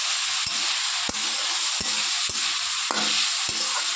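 Small fish with eggplant and potato frying in a pan, a steady close sizzle and hiss broken by several sharp scrapes of a spatula stirring at a rough half-second rhythm.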